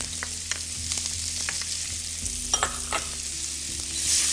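Chopped onion and garlic sizzle gently in a pan with spices and chicken, a steady soft frying hiss broken by occasional scraping stirs, close and fairly quiet.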